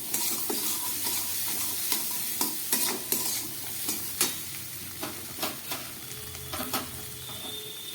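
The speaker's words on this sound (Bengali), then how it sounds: "কারি পাতা সর্ষে ফোড়ন দিলাম" Curry leaves and mustard seeds tempering in hot oil for dosa, a soft steady sizzle broken by repeated sharp pops and crackles, close and fairly quiet, with no talking.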